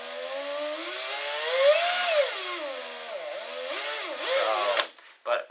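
A Bosch DDB181 cordless 18V drill runs on speed setting 2 with a loud, whining motor that rises and dips in pitch as the trigger is eased, then cuts off near the end with brief knocks.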